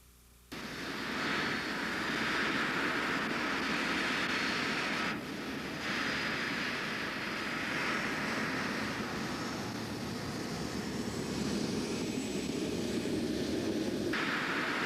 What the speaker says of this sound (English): It's just the jet going by.